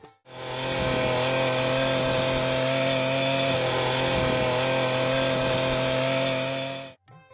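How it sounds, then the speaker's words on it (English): Oleo-Mac style petrol weed cutter running steadily at high revs, a loud continuous two-stroke engine drone that starts abruptly and cuts off near the end, with no talking. "Oleomac and other popular companies have introduced hedge trimmer, pole pruner and other attachments for this weed cutter machine."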